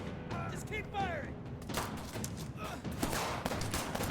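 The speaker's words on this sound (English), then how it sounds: "Just keep firing." Gunfire in the video game As Dusk Falls, a shootout at a store counter: a rapid run of sharp bangs and thuds dominates the second half, after a stretch of spoken dialogue.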